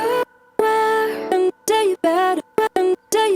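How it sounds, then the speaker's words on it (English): A distorted vocal chop loop from an electronic track, with chopped sung syllables in a choppy rhythm of short and sustained bursts separated by abrupt gaps, bright and gritty, with no talking. "So the distortion sounds like this."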